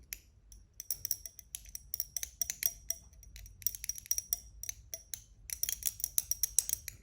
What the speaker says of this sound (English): I'm going to mix the contents immediately using a glass rod.